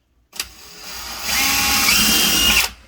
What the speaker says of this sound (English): Use that 1/8 of an inch drill bit.